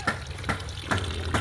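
Water poured for rinsing, likely at a riverside or boat after a fishing trip, heard as a steady close wash with periodic splashy surges, no talk over it.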